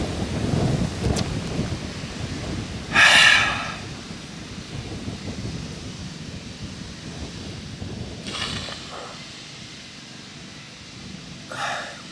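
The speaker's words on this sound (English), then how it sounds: "the wind is loud out here" Strong wind blows outdoors as a constant rushing roar buffeting the microphone, with louder gusts rising briefly several times and no talking.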